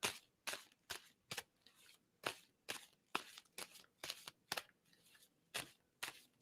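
Playing cards being shuffled by hand in a series of quick riffling bursts, roughly a dozen short crisp rattles with brief gaps between them, fairly quiet and close.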